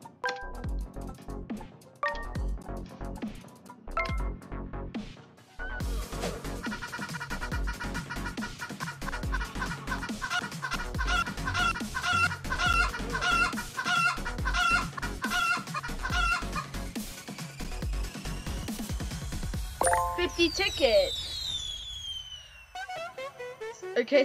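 Cartoonish chicken clucks and squawks from the Roblox game Dizzy Bird, a rapid run of repeated clucking that builds into a busy, rhythmic stream, ending with a rising squawk, with no talking.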